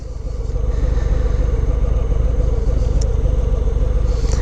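A 2019 Harley-Davidson FXDR 114 motorcycle engine runs steadily and loudly during a ride, a continuous deep throbbing rumble with no speech over it.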